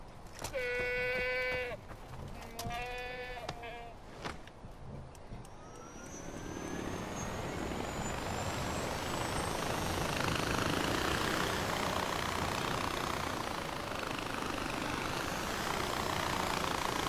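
Aircraft engine in the shooter game Far Cry 4, rising from a whine into a loud, steady roar of flight noise that fills the scene after a few short bleating calls.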